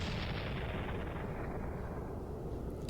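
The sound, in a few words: cannon firing as a tornado warning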